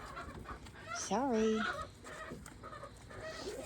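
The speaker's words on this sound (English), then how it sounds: "Somebody's bothering a chicken over there." A farmyard chicken gives a loud, squawking cluck in the middle, with fainter fowl calls and outdoor background noise around it and a brief spoken word from a person nearby.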